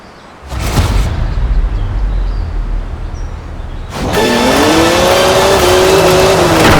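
BMW 1M doing a burnout in Forza Horizon 4: a loud engine roar, then a sudden jump to a sustained high revving wail with tire squeal, near and alone.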